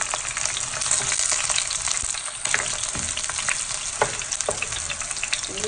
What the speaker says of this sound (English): I'm just gonna kind of flip it around and let it. Get fried.